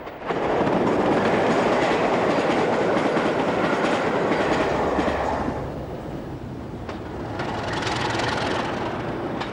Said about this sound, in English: 45105 is seen working the Cardiff to Bristol leg of a late afternoon service to Portsmouth Harbour